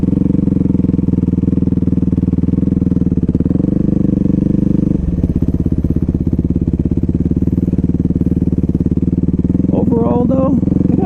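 A motorcycle with a loud aftermarket exhaust rides steadily, its engine droning strongly and close throughout, with a brief shift in tone midway; a voice joins near the end.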